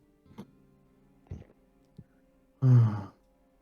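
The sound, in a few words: person imitating snoring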